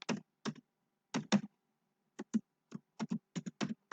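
Typing on a computer keyboard, crisp isolated key clicks in small irregular clusters with quiet gaps between, close and clear with no talk.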